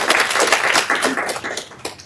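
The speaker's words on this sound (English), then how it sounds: "So I want you all to give yourselves a round of applause." A university midwifery welcome session audience giving a brief round of applause, close, loud clapping with uneven bursts that thins out toward the end.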